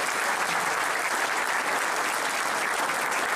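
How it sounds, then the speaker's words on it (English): A crowd claps steadily throughout, dense and even applause filling the space at a concert event, with no speech on top. "Please give them a round of applause."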